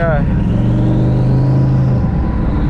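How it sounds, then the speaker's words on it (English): A twin-turbo Ford Cobra accelerates hard through second gear, its loud engine tone climbing steadily in pitch close to the microphone, and a voice is briefly heard over it. "redlined second gear, but yeah, it was pulling pretty good"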